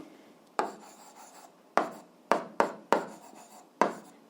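A pen writes out the givens of a physics problem on paper, with close, crisp strokes and taps in an irregular rhythm and short scratchy runs between them.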